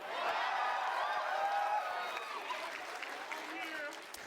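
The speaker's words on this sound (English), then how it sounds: "yeah, cheer for Brent." A large keynote crowd at PAX East 2019 cheers and applauds for a man named Brent, a steady wash of clapping and whoops sustained throughout, with voices mixed in.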